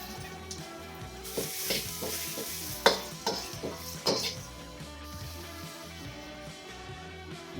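Chopped onion sizzles in a pan over medium heat, a steady frying hiss with a few sharp stirring clacks and scrapes in the middle, fairly close and without talk.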